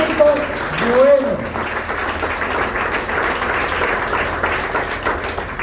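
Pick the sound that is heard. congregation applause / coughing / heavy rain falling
congregation applause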